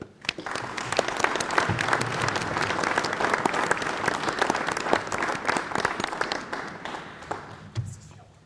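A dinner audience at an anniversary celebration applauds to welcome the president to the podium, a sustained round of dense clapping that swells then fades out, with no talk over it.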